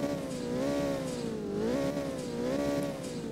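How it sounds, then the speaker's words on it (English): A McLaren 600LT engine just after a cold start, idling loud and close with a steady, slightly wavering drone, no talk over it. "600LT. Let's get that cold start."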